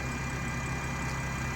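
A BMW 440i M Sport automatic, rated at 326 brake horsepower, idles with a steady, even hum, constant and unbroken, with no voices over it.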